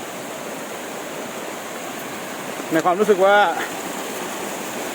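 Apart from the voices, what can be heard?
small waterfall flowing in rainy season forest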